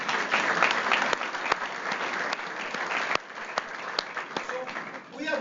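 A chamber of commerce audience applauds loudly and continuously, many hands clapping at once, with a few voices mixed into the ovation.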